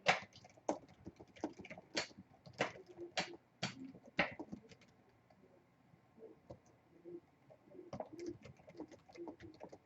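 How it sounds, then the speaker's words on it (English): Light typing on a computer keyboard, a burst of quick close clicks early on, then sparser taps later, with a pigeon cooing softly in the background and no talk. "I'll just type a little message there."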